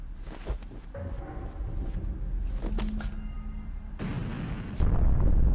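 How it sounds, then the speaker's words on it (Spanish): A bomb blowing up in the video game Owlboy during a temple boss fight, a few heavy bursts over game sounds, the last and loudest arriving near the end. "No, sigue destrozándose la bomba."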